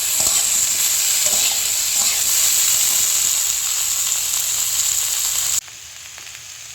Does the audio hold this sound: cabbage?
yes